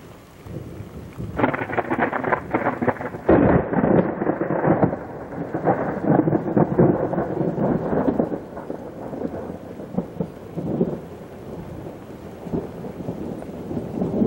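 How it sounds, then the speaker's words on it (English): A heavy thunderstorm with rolling thunder and steady rain pounding down, loud and continuous at first, easing slightly to a softer patter of rain toward the end, with no voices. "We got some serious thunder bumpers going on."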